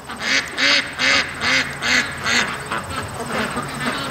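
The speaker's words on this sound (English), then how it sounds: "Happy ducks." Relaxed ducks quack in a steady run of about six loud, evenly spaced calls close by, followed by softer, overlapping quacks and chatter toward the end.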